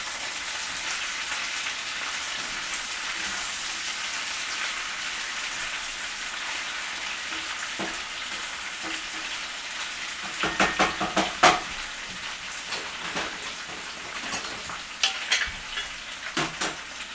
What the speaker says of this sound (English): These potatoes need to stir.